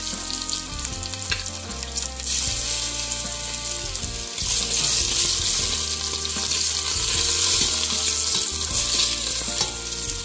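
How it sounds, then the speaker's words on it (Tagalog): Minced garlic dropped into hot cooking oil for pinakbet, a loud, close, continuous sizzle and crackle with scraping stirring sounds that intensify midway, no talking. "Init na ang ating mantika guys, ilagay na natin ang ating bawang."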